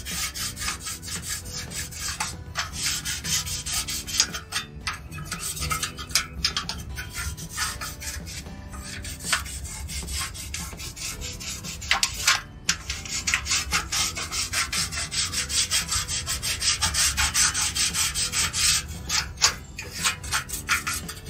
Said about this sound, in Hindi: इसको इससे इसकी मदद से ना पहले थोड़ा सा साफ कर लेंगे